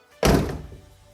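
The front driver's door of a worn BMW E36 drift build swings shut in one solid, close thud that rings out and fades over the next second.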